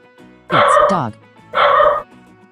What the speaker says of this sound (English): It's dog.